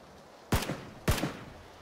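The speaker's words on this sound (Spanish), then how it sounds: "Dos tiros." Two sharp gunshots in PUBG, fired about half a second apart, each a loud crack with a short ringing tail over quiet background, and no voices.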